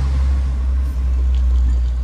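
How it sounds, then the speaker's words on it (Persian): A Peugeot 207 engine idles steadily, a loud constant low rumble with no other sound over it. "بیاید صدای موتورش هم با هم دیگه گوش بدیم"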